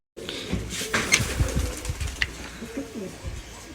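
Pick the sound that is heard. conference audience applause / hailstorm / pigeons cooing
pigeons cooing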